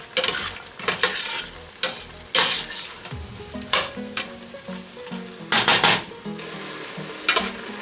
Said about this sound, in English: And we're gonna stir in that onion.